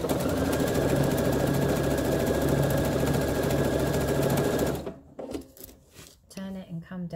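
A sewing machine stitching through soluble film runs with a steady, loud mechanical whir for about five seconds, then stops, and a person speaks in the quiet that follows.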